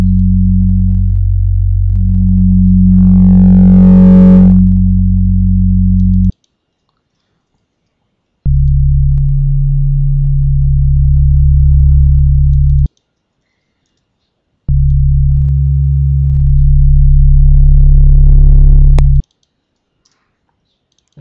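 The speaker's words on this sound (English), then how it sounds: "They're all sine waves. And the only difference between them is they're detuned." Three detuned sine wave oscillators in an LMMS TripleOsc synth sound a loud, pure sustained tone in three separate held notes, each several seconds long with silent gaps between, the first with a faint warble.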